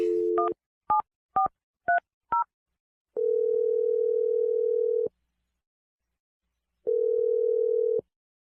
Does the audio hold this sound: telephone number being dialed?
yes